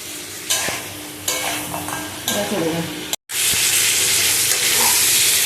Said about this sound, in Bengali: দেখো কাঁকড়াগুলো ভাজা হয়ে গেছে